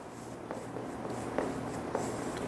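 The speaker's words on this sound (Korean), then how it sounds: "그래서 하나 중학교 때부터 계속 배웠던 거 하나만 써볼게요, 이렇게." Chalk or marker scratches across a classroom board in a few short strokes, with light taps where each stroke starts; faint, close, over a quiet room hum with no talking.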